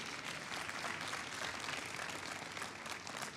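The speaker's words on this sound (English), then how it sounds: "Give the Lord a hand clap." A church congregation claps together in a sustained burst of applause, a dense wash of many hands at moderate distance, holding steady for a few seconds.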